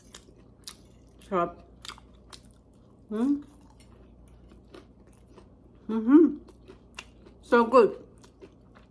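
Bites and chewing on a crunchy pork and eggplant omelette coated in flour and cornstarch, a few close, moist crunching bursts spaced between quiet pauses, with brief talk.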